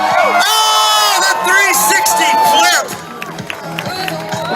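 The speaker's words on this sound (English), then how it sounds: "you guys give it up right now for Billy Jeanette. Let him hear you." A crowd at a BMX stunt show cheers and whoops for a stunt rider, loud and sustained with shrill children's shouts, then drops to scattered yells while an announcer talks over it.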